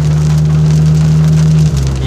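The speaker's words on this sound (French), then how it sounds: "Il pleut sévère là." Heavy rain drums steadily on a surface, loud and close, a dense continuous patter under a low engine-like hum, with no one speaking.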